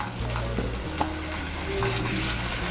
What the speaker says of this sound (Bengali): তেলটা গরম হলে প্রথমে এর মধ্যে আমি আলুগুলো ভেজে নেব।